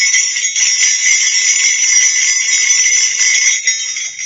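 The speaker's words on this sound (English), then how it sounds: "I've got my own little jingle bell." Small handheld jingle bell shaken continuously, a bright steady shimmer of tinkling metal ringing close and loud without pause for several seconds, with no voices.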